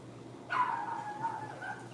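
A pet dog gives a single drawn-out whining yelp that wavers and trails off over about a second and a half, fairly close, with no talking.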